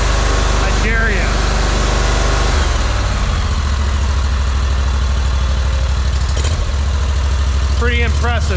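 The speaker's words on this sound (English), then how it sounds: "Tell me that's not a smooth engine." A Briggs and Stratton fuel-injected 37-horsepower V-twin engine on a Ferris ISX 3300 zero-turn mower idles close by with a loud, steady, low rumbling drone that continues unbroken, with a voice speaking briefly over it.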